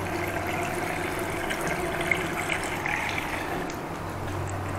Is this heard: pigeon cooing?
no